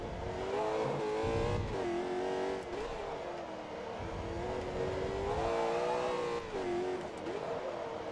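Race cars in Forza Motorsport 2 drone and rise and fall in pitch as engines rev through corners, a loud steady game engine mix with brief dips between gear changes, with no speech.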